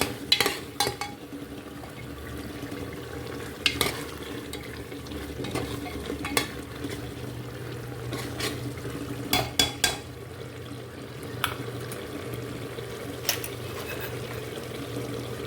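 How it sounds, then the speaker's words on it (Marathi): Garlic and ginger paste frying in a pan for yakhni pulao, a soft steady sizzle broken by repeated sharp clinks and scrapes of a spoon stirring against the pan. "लसूण आहे हलवून घेते. नंतर आल्याची पेस्ट टाकते."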